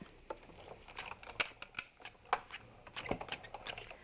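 Cutting pads feed through a Sizzix Big Shot die-cutting machine, making a run of crisp, scattered clicks and crackles at low volume, with no talking.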